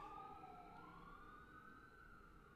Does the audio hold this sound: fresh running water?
no